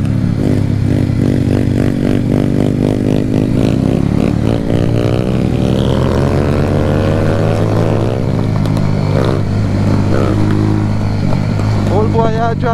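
A motorcycle engine is revved hard on a Jamaican road, climbing and falling in pitch through several loud, close throttle sweeps, with voices mixed in.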